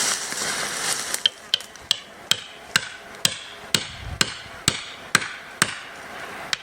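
Sharp, evenly spaced knocks as a tool cuts a V notch into a birch tree, about a dozen crisp strikes ringing out close by over a low background, with no talking.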